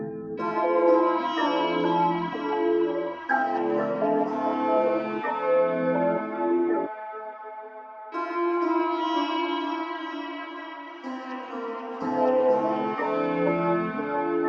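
A chopped sitar sample drenched in reverb and delay plays a layered, ringing melody in choppy segments that stop and restart, with a short gap midway and no talking.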